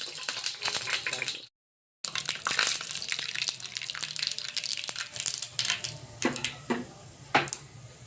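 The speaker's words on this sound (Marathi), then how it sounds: "आता ही आपली राई तडतडलेली आहे, छान फुटली आहे।" Mustard seeds tempering in hot oil in a pan on a gas stove, crackling and popping in dense, irregular bursts of sharp spits up close, with a brief cutout of silence partway through and no talking.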